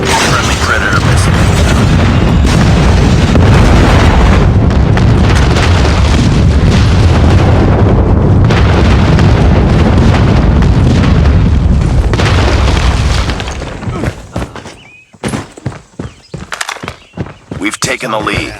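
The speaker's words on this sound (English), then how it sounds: "Friendly airstrike incoming. Friendly Predator missile." Airstrike and Predator missile explosions in Call of Duty Mobile during a Hardpoint match, a long stretch of loud continuous booming and blasts that cuts off abruptly, followed by scattered sharp pops and shots.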